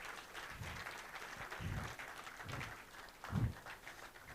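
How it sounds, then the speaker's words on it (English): Audience at Jos Tech Fest 2024 in a hall applauding as the Plateau State science and technology commissioner walks up to the stage; steady moderate clapping with a few louder low thumps near the end. "Please give him a round of applause as he comes up stage"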